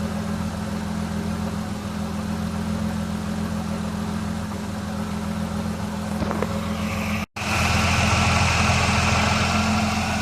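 A Holden VS with an L67 engine idling close by, a steady low rumble with an even drone, broken by a brief dropout before resuming slightly louder and brighter, with no talk.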